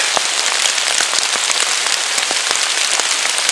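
Heavy rain pours steadily in a forest, a dense close hiss with scattered sharper drops striking nearby surfaces, continuous and loud with no voices.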